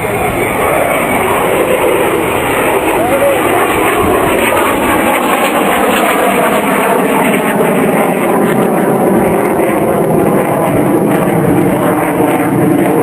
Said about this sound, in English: At the top of the next manoeuvre, the aircraft will be as slow as 50 miles an